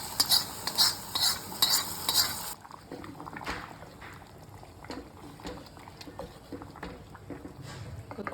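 Tempering spices sizzling in hot oil for a dried nangu fish curry, a bright crackling burst for the first couple of seconds, then quieter bubbling and a few utensil clinks.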